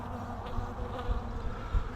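Honeybees drone in a low, steady, close buzz from an open hive during an inspection of brood frames, with no talk over it.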